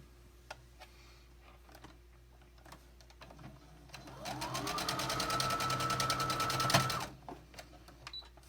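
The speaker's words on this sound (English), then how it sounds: "I'm going to sew straight down this line" A sewing machine stitching a straight seam on a quilt block, running in a steady buzzing burst for about three seconds after scattered quiet clicks and handling, fairly close, with no talk.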